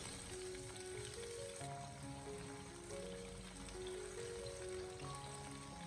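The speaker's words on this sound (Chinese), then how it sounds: "我们开小火给它持续的慢慢的翻炒一下，先把小料慢慢的煸炒出香味。" Chopped aromatics stir-fried slowly in a little oil over low heat in a wok, giving a faint, continuous sizzle with light crackles throughout and no talking.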